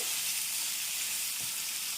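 A hot tempering sizzles loudly and continuously in a pan as cucumber-brinjal chutney is mixed in, a dense, even, close hiss with no talking.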